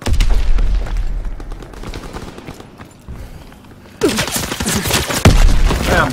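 Rapid gunfire and heavy booms from a Call of Duty WW2 beta domination match on Xbox One, bursts of loud shots and explosions with a quieter lull in the middle before the firing surges again.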